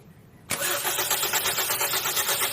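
A Toyota Vios that had trouble starting cranks briefly and catches, its engine then settling into a loud, steady, close-up idle with a rhythmic pulse.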